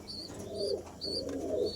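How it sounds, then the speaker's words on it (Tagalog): Two soft, low coos from a pigeon or dove close by, each a rolling murmur, with faint higher chirps between them. "Ganda rin ng ibon."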